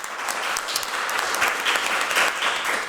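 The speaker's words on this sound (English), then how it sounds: "Let's give Councilwoman Stephanie Howse-Jones a round of applause if we can." Audience at a press conference applauds, a dense steady clapping from many people throughout, fairly close, with no talk over it.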